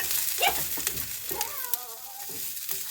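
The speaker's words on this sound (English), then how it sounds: "Now just give them a little mix with your onions." Onions sizzling and being stirred in a frying pan, with steady frying hiss throughout and scattered scraping knocks of a utensil against the pan at close range.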